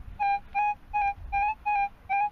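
A beach metal detector gives a 2p coin signal: six evenly spaced, clear electronic beeps in a steady rhythm, fairly faint and alone.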